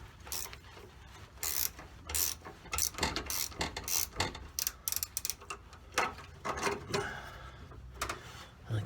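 Parking brake cable being tightened on a 1956 Mercury, a close series of quiet metallic ratcheting clicks and rasps in uneven bursts, with no talking.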